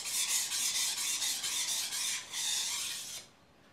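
Ring knife stroked against a whetstone, a bright gritty scraping in rapid repeated passes, close and fairly loud, stopping abruptly near the end.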